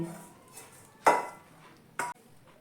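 Two sharp metallic clanks as a large brass plate is handled on a kitchen surface while naan dough is set on it, with quiet rustling between the knocks and no talk.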